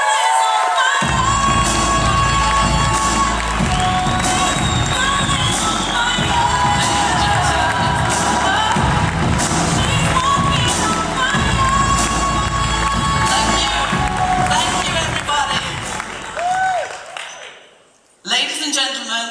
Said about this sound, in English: So please give a big round of applause to one of the most powerful women I know, Miss Sally Forbes, everyone.